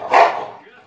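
A puppy gives one short, sharp bark close by, fading quickly into a quiet background.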